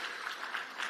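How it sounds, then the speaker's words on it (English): Audience applause fills the hall at the Afreximbank Annual Meetings, a steady wash of many hands clapping at close range with no voices over it. "Round of applause for our last"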